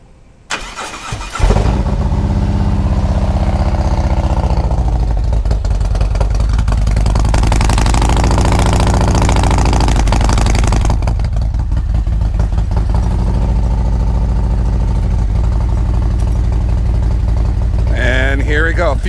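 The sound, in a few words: Ducati Scrambler Sport Pro 1100 with Termignoni exhaust starting and idling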